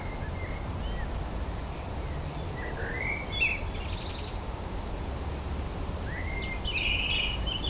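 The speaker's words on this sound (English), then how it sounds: "Listening to the birds." Birds singing outdoors at a home yoga practice, faint scattered chirps and short song phrases over a low steady background hum.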